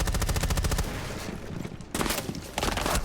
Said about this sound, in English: Gunner saw the shots, then opted to try and fight back, but Cyber just kept shooting